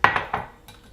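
Simmered Japanese-style red perch being set onto a plate: a few light, close clinks of dishware or utensils in quick succession, then a softer tap before quiet.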